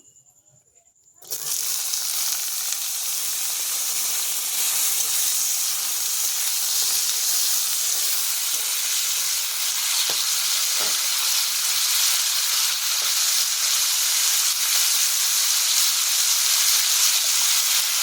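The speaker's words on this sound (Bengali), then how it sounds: "এখন আলুটা ভেজে নিচ্ছি" Potatoes fry in hot oil in a pan for mustard-greens stem curry, a steady loud sizzle and hiss that starts abruptly after a moment of quiet and holds evenly throughout.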